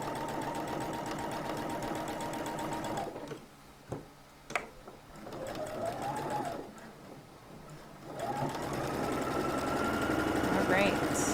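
Sewing machine stitching a shirt collar, running steadily in a burst at the start and again near the end with a pause in between, moderately close, with a person talking over it.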